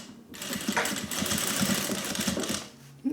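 A sewing machine stitches fabric for a sling bag, running in a continuous close mechanical chatter of rapid needle strokes for several seconds before slowing at the end.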